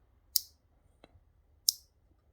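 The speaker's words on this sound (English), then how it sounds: "Forward and reverse toggle. You should listen to a little click." A forward and reverse toggle switch on a simple PWM motor controller, two small sharp clicks about a second apart in near silence, close and faint.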